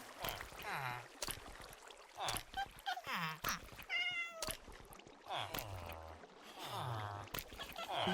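A cat in the video game Minecraft meows repeatedly, several clear, close, high-pitched mews spaced a second or so apart, over a soft background of game sounds.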